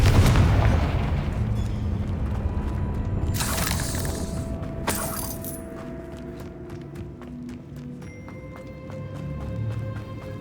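Magical blasting-spell explosions in the Hogwarts Legacy video game: a loud boom at the start, then two sharp bursts midway, each trailing into a long, fading rumble and ringing tones.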